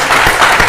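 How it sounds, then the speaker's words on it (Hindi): An audience applauds at a CCRT New Delhi Amrit Ratna event, greeting a teacher from Buldhana, Maharashtra. The clapping is a dense, steady wash of many hands, loud and continuous through the short moment. "कृपया तालियां बजती रहें।"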